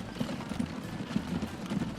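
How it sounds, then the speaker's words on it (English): Horse hooves clip-clop steadily in the Transport Fever video game, with American working horses set in 1861. Soft, repeated thuds in an even rhythm sound over a low, busy background hum. "These are American horses"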